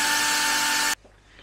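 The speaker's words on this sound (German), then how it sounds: "Dann bohren wir erstmal in meine neue Trenntoilette ein Loch rein." Power drill boring a hole into a new BOXIO separating toilet, a loud steady whine held for about a second and then cut off abruptly, leaving quiet room sound.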